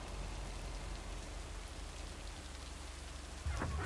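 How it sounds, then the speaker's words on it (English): Steady rain falling in the video game Lake, a constant broadband hiss throughout with a louder, closer patter swelling near the end. "because it's raining in the game"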